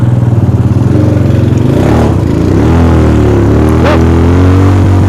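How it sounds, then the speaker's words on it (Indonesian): A motorcycle engine climbs a steep uphill road in first gear, starting with a loud pulsing idle and then rising into a strained, steady revving drone close by. "Nyala nih motor."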